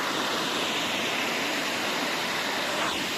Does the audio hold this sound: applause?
no